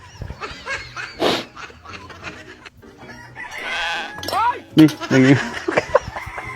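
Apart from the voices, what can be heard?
chicken clucking and crowing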